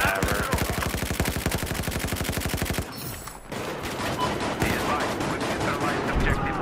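Automatic rifle fire in Battlefield 4 during close indoor combat, a long rapid burst of loud shots followed by scattered gunfire and impacts, with a voice speaking in the background.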